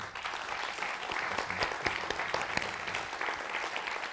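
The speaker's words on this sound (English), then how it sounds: "Let's have another round of applause for Doug and Edgar." Audience applause at a poetry and art panel event, continuous clapping from a crowd, steady and moderately distant across the stretch.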